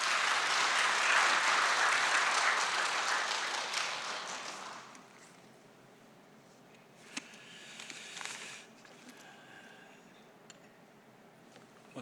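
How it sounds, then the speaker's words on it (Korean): Church congregation clapping to welcome the pastor to the pulpit, a dense burst of applause that swells and then fades after a few seconds, leaving a quiet room with scattered small knocks and shuffles. "우리 목사님 환영의 박수 한번 하죠."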